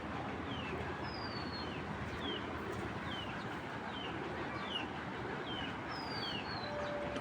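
Racing pigeons in a loft giving repeated soft calls over a constant low background hum, spaced every second or so and fairly faint.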